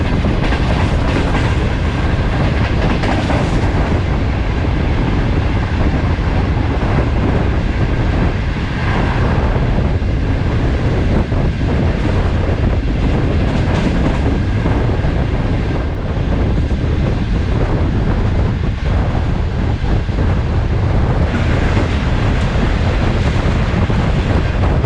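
The Shalimar Express rushes through a station at over 100, a loud continuous roar with rhythmic wheel clatter and rushing air filling the whole stretch, no voices.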